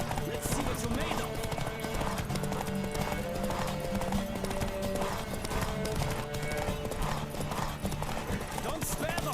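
Fast, steady galloping hooves from a racing horse in The Witcher 3: Wild Hunt around Novigrad, loud and continuous over background music, with a brief whinny and shouting voices.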